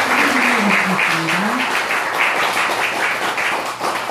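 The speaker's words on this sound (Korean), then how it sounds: "일단 박수로 한번" A congregation at a Buddhist dharma service at a military temple breaks into applause, sustained dense clapping while a voice speaks briefly over it near the start.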